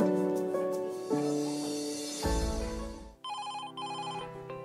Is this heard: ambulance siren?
no